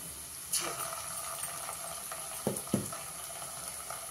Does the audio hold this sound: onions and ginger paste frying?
yes